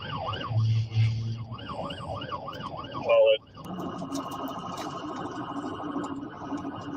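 A wailing police siren rises and falls repeatedly, then cuts to a short yelp before giving way to road and engine noise.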